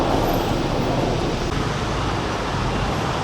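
Elevated metro train passing overhead above a Bangkok street, a steady broad rumble blended with surrounding road traffic, heard without talk for a few seconds.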